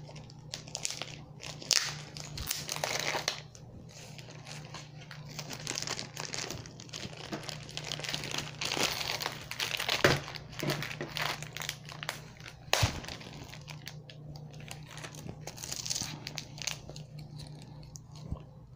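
A clear plastic bag around a 30 by 40 canvas with a clear cover gets crinkled and pulled open in close, faint bursts of crackling, with a few sharper pops along the way.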